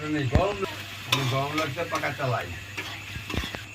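Ground coriander, cumin, turmeric, red chilli and ginger are sautéed in a pan, giving a soft sizzle and scraping stir strokes beneath a voice talking over most of it.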